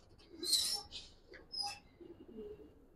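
Eagle-breed pigeons, a male and female, give soft, faint coos and brief bright calls close by, a few short bursts over a low background hum.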